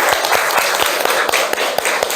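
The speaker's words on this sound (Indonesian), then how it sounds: "Kita beri tepuk tangan untuk Sultan." Classroom applause for a student, rhythmic clapping of a small group in unison, close and fairly loud, with no one speaking.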